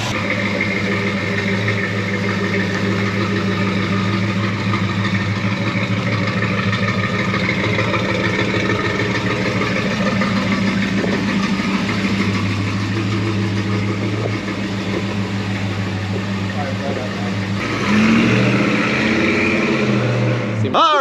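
A classic Chevy truck engine idles steadily for a long stretch, its low rumble shifting slightly in pitch as the carburetor is adjusted near the end.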